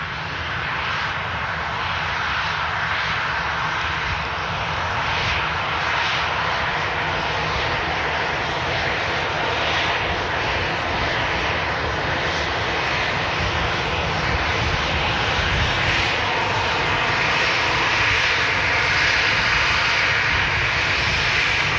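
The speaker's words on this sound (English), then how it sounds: "Looks like the Vamos is just about to enter the active runway here at Manchester Airport." Airbus A330 jet engines at Manchester Airport as the aircraft taxis onto the active runway: a steady, broad roar that holds at an even level throughout, alone without speech.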